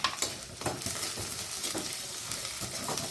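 Chopped onion sautéing in a pan while being stirred until golden, a soft steady sizzle with occasional scraping knocks of the spoon against the pan, heard close and without talk.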